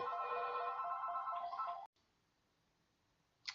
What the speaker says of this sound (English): Phone went.